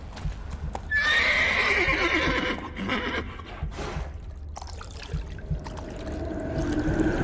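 A horse in The Witcher 3 gives a loud, close whinny near the start, and then rhythmic clip-clop of hooves follows under ambient game sound, with no talk.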